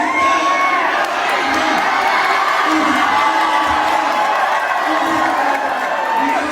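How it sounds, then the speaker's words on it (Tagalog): A crowd at a street basketball game shouts and cheers loudly and without a break, with excited children's yells and whoops rising over the steady roar. "Sigawan ng tao dahil excited sila dahil malupit din itong mga kalaban niya"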